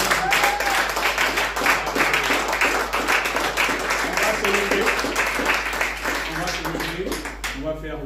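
A church congregation claps loudly in a dense, sustained burst, with voices and shouts mixed into the applause throughout.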